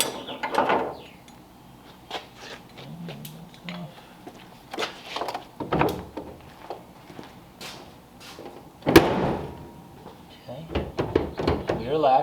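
Electric trunk lid popper on a 1938 Ford convertible with a shaved trunk lid, giving several mechanical clunks and latch thunks, with louder knocks near the end, amid intermittent talk nearby.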